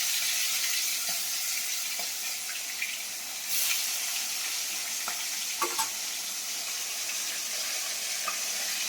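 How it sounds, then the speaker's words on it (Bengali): Hilsa fish pieces fry lightly in hot oil in a kadai, giving a soft, steady sizzle with a few faint clinks and crackles scattered through it. No one speaks. "এখানে ইলিশ মাছ ভাজা হচ্ছে"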